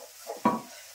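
Chili powder and garlic fry in oil in a pan with a brief, close sizzle and a quick stirring scrape, fading away within a second.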